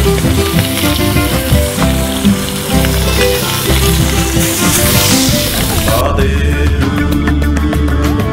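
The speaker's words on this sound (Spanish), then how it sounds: "Echa salsita, freímos." Food sizzles loudly in hot lard with sauce added, a dense, close crackle and hiss that runs continuously, with a brief stirring clatter toward the end.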